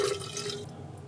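Brewed coffee is poured slowly off the settled grounds into a cup, making a brief, close liquid trickle and splash that fades at the end.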